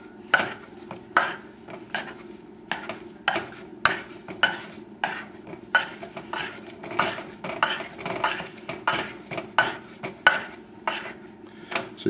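A slotted spoon mashes cooked potatoes in a bowl, giving steady rhythmic clinks and scrapes of metal on dish, roughly one or two per second, close and clear with no talking.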